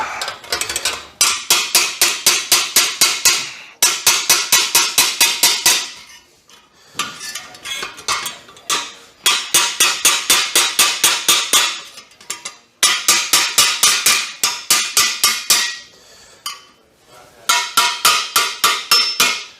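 Armor metal is hammered on an anvil for repoussé at an SCA event, bright ringing metallic blows struck in rapid regular runs of many strikes, each run stopping for a brief pause before the next, loud and close.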